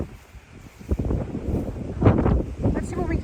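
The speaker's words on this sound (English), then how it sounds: "I mean, it's just crazy windy here" Strong gusting wind in a cemetery buffets the microphone with a rough, fluctuating roar, while a person talks over it.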